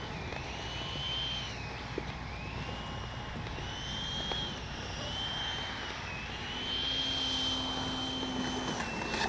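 Freewing 90mm F-4 Phantom II RC jet with landing flaps out whines with a thin high turbine tone that wavers as it comes in to land, moderately loud against outdoor background noise.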